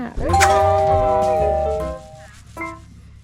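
A bright chiming bell sound effect used as a subscribe reminder rings out loudly with a long ringing decay, followed by a second softer chime near the end.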